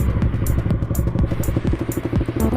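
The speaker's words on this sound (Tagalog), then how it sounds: "At tamang painit tayo ng ating motor dito" A motorcycle engine idles steadily while warming up before a ride, its low, even putter continuing close by with a few light clattering thumps and no talk.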